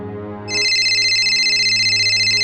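An electronic phone ringtone starts abruptly and rings loudly and steadily for about two seconds, a bright pulsing tone over a faint musical backdrop.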